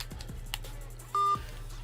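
A single electronic phone-dialing tone, a short steady beep lasting about a fifth of a second, sounds while a call is placed back, with faint clicks and a low hum around it and no talking.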